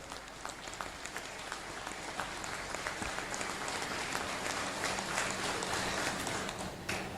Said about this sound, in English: the entire district cheering you